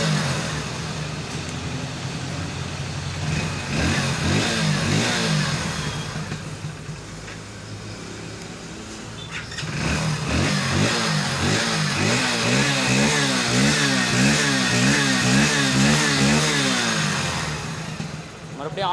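A Hero Splendor Plus BS6 motorcycle engine cranks and starts, settling into a close, steady putter, then is started again and idles with a rhythmic throbbing, someone speaking briefly over it.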